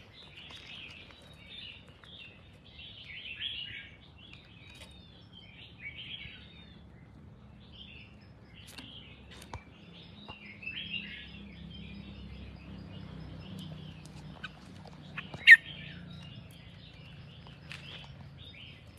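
A pet songbird, recently through its molt and kept at home, chirps and squeaks in scattered bursts over a low rumbling background, with one sharp, louder squawk late on and no talking.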